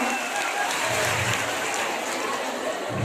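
A live audience at a celebration event claps loudly in a dense, continuous wash of applause lasting a few seconds, with crowd noise mixed in.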